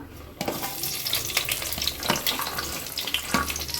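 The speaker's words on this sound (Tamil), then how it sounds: "இப்போ நம்ம வந்து இந்த வெங்காயம் எல்லாமே வெங்காயம் பூண்டு கருவேப்பிலை பச்சை மிளகா எல்லாமே இதில் ஒரே டைமில் சேர்த்துக்கலாம்" Onion, garlic, curry leaves and green chili hit hot oil for a fish curry base, breaking into a loud, dense sizzle with scattered pops and spatter that holds steady throughout.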